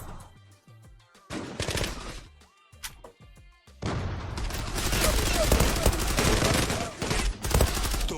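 Rapid bursts of automatic gunfire and crashing impacts in the online shooter Zula, starting sparse and becoming loud and nearly continuous in the second half, with a voice talking over parts of it.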